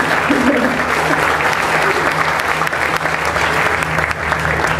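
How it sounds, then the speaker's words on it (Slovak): A discussion audience breaks into loud, sustained applause, a thick wash of clapping heard close and steady, with faint voices underneath. "tento optimizmus a tá odvaha si zaslúži potlesk"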